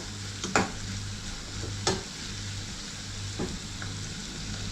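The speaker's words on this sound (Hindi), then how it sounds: "अब ये डाल के उनको हिला लेते हैं" Onions softening in a pan with a low, steady sizzle, broken by a few sharp spoon scrapes and clanks as they are stirred, close by but fairly quiet, with no talking.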